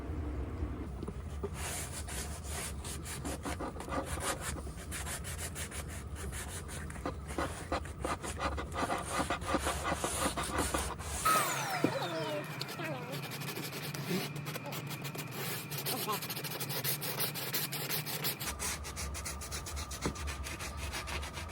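A Dremel rotary tool sands wood in a camper van, giving a steady close rubbing and scraping that runs almost throughout, with a brief change in tone partway, while people talk.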